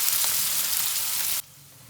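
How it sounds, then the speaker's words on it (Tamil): Onion fries in a pan for chicken gravy, a close steady sizzle that cuts off abruptly partway through, leaving near quiet. "இந்த ஆனியன் நல்லா ப்ரௌன் கலர் ஆகணும். அந்த அளவுக்கு நல்லா ஃப்ரை பண்ணிக்கலாம்."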